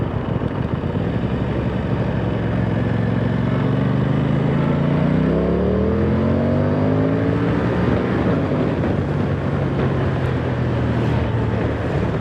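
A 2025 Aprilia Tuono 660 Factory motorcycle accelerates, its engine tone rising smoothly through the revs under heavy wind rush, then dropping and settling, heard up close from the rider's position.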